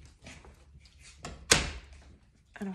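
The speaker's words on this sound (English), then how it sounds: "Let me close my door." A bedroom door is pushed shut at home early in the morning, one firm thud landing partway through amid quiet shuffling and soft movement, fairly close.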